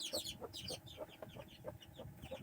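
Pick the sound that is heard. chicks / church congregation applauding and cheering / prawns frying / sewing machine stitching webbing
chicks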